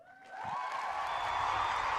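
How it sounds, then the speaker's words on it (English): Audience applause for a couple's 70th wedding anniversary: a crowd's clapping swells in after a moment and holds as a steady, moderately loud wash with a faint tone running beneath. "Get this deserves a huge applause."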